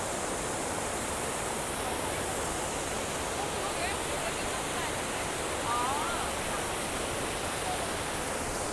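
Waterfall on the Cheonggyecheon stream in Seoul, a steady loud hiss of falling water that holds evenly throughout, with faint voices in the background.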